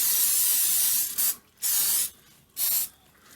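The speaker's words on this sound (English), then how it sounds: "Or vegetable oil. I'm just gonna spray it." Vegetable oil sprayed from a can onto a whole chicken before air crisping, three loud close hissing bursts, the first long and the next two shorter, separated by brief pauses.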